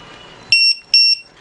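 A 3-in-1 buzzer sounds its signal-loss alarm, two sharp, loud electronic beeps of equal length separated by a short gap, over a quiet background.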